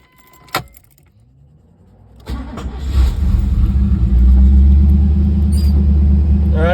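A 1982-92 Chevrolet Camaro IROC-Z with a tach fault: keys jangle close up, then the engine cranks and catches, revs briefly and settles into a loud, steady idle.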